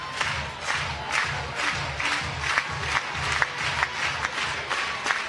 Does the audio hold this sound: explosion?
no